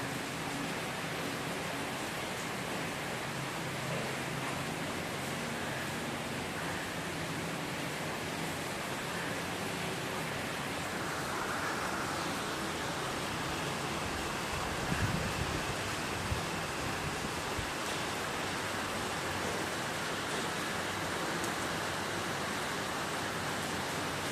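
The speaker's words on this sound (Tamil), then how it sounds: "சென்னை செங்குன்றத்தில் மீண்டும் மழை பயங்கரமாக பெய்கிறது சாலையில் பெருகெடுத்து ஓடுகிறது தண்ணி" Heavy rain pouring down in Chennai's Sengundram, Balaji Garden, with water running along the road: a dense, steady roar of rainfall and flowing water, loud and unbroken throughout.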